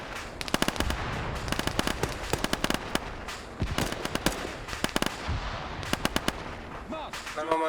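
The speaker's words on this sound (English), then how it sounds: "That Humvee just exploded." Rapid bursts of gunfire and sharp cracks from an Arma battle crackle throughout, with a louder thump midway where a Humvee explodes, all fairly close and busy.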